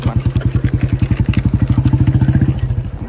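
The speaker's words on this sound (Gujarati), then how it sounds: "દેશી ગાડી એ લોઢાના વ્હીલ વાળું મોબાઈલ જાતું હોય તો અવાજ કરતું હોય ભાઈ ખડ ખડ ખડ ખડ ખડ અવાજ સાંભળો" A desi cart with iron wheels, driven by a Bullet engine, rattles past close by with a fast, even thumping clatter that fades slightly toward the end.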